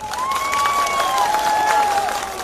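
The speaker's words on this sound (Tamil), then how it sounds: "மிகப்பெரிய கரகோஷத்தை நீங்கள் அவருக்கு கொடுக்க வேண்டும்." Crowd applause at a BJP political rally in Cuddalore, a dense, continuous clapping that fills the clip, with a thin sustained whistling tone sliding over it.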